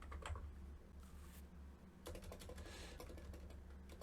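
Fast typing on a computer keyboard while writing Flutter code, a quiet run of close, crisp key clicks with a brief pause midway, no talking.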